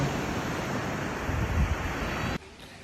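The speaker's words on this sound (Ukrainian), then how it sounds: "О, хвилі тут що почалися прям." Steady roar of sea surf washing in on the Danish coast, loud and close, with wind buffeting the microphone before it cuts off abruptly.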